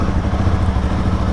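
A motorcycle engine runs loud and close at the start of a ride through a busy area, a steady low rumbling idle with rough clattering texture and no talk.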